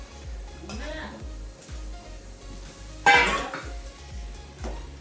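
Vegetables simmer in a pot of mutton curry with a soft bubbling sizzle, low rhythmic thumps and stirring, then a brief louder clatter of metal utensils partway through.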